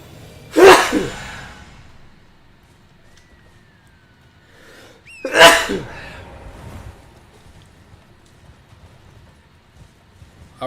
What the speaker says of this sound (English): I'm gonna sneeze pretty soon